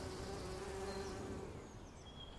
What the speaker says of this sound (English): Wildflowers in the lawn attracted a lot of insects.